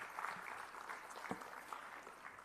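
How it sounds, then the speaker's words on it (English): An audience applauding at a graduation ceremony, continuous and fairly faint, with a roomy, distant quality and one sharper knock partway through. "So let us put our hands together and give a round of applause"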